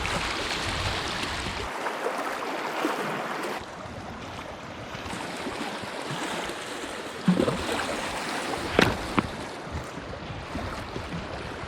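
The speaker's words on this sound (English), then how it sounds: "I could watch those waves all day long" Ocean waves washing against a rocky shore on an Arctic hiking trail, a steady broadband surge that rises and falls, with a few sharper splashes late on and no talking.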